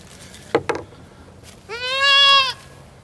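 A young goat kid bleats for its mother, one drawn-out, wavering, close-up call, preceded by a couple of brief knocks or scuffs.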